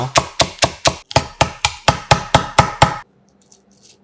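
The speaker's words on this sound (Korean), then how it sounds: "계란에 들어갈 대파잎 1개는 반을 갈라 쫑쫑 썰어 용기에 담아주세요." A knife chops green onion leaves on a cutting board in a quick, steady run of about a dozen crisp, close knocks over three seconds, then stops, leaving faint quiet clinks.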